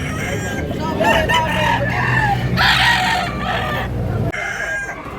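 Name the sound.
chickens and roosters crowing at a market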